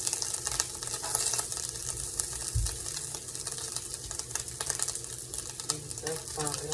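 Hamburger meat frying in vegetable oil in a pan on a stove, a steady close sizzle with crackling pops throughout, a few stirring scrapes and a brief low thump partway through.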